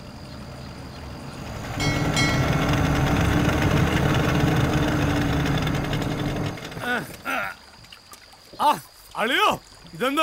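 A motor boat engine drones loudly and steadily for several seconds in a Malayalam film scene, then cuts away as voices talk.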